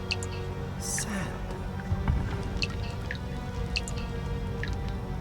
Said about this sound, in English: So you hear those water drips? Yeah. That's how you know you're next to a fountain.